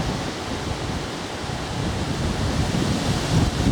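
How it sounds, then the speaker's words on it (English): Steady, broadband wind rushing outdoors at the edge of Eridge Green, a woodland Wealden village, building slightly louder toward the end with gusts buffeting the microphone, no voices. "Wind's picking up."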